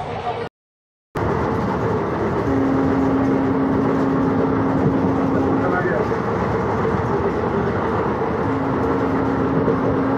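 The Chakradharpur Express runs through the night from Howrah toward Purulia, giving a loud, steady rumble of wheels and carriage noise with a faint hum. The sound cuts out briefly near the start, then continues unbroken.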